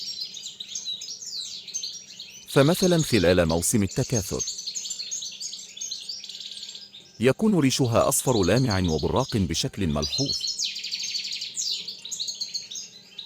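Twittering goldfinch song in the wild, a steady thin chirping that runs throughout, broken by two long stretches of someone talking over it.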